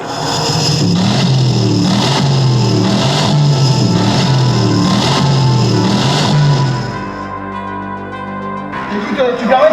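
A small quadricycle microcar engine runs close by with a loud, pulsing rev that rises and falls in an even rhythm for several seconds, then drops away abruptly as other noises take over.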